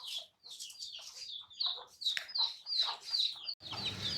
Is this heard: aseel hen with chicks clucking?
yes